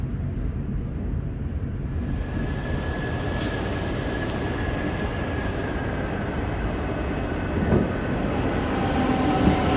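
A train rumbles steadily along the tracks arriving at a station in Amsterdam, with a broad roar, a faint tonal whine and brief metallic squeaks, no talking.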